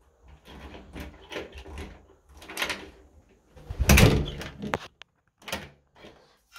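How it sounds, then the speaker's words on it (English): An apartment front door is shut with a sharp, loud thud near the middle. Softer handling knocks and rustles come before and after it at close range. "Just gonna close the door."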